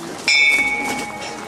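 Bell rung at a cemetery in Stodôlky, a single ringing strike with a sustained tone that lingers over background talk.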